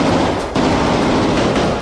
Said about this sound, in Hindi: इजराइल के सैनिक गोलियां चलाते हुए अंदर घुसे